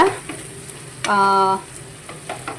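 Potatoes for an aloo methi dish cook on a low flame in a pan, giving a soft, steady sizzle with a brief, brighter burst of frying partway through and faint stirring contact around it.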